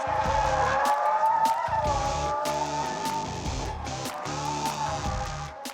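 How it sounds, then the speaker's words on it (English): A 2025 Hyundai IONIQ 5 N electric performance car drifts with its rear-biased power, tires squealing in long sustained wails under a loud electric drive whine, with brief breaks between slides. "Hyundai Vice President June Park is using N-Drift Optimizer here"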